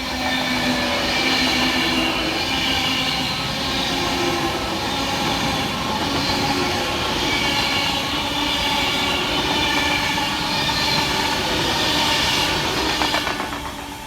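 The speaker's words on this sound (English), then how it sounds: "passing fast for Avanti West Coast is 390-114, working 1 Alpha 47 from Manchester Piccadilly through to Milton Keynes Central" A fast Avanti West Coast Class 390 train passes on the West Coast Main Line in rain with a loud, continuous rushing roar and rumbling clatter of wheels on rails, close by and sustained throughout.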